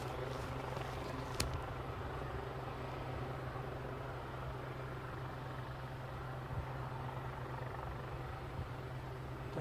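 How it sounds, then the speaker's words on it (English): A helicopter flies near Aberdeen airport as a faint, distant, steady whirring drone that continues evenly throughout, with no voices. "Definitely a chopper strumming away."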